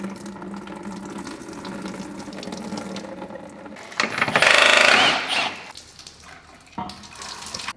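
Fuel drains from the tank of a Honda Civic Type R that is being converted to all-wheel drive. A low mechanical background gives way to a loud, rushing gush of liquid for about a second and a half, which then tapers off.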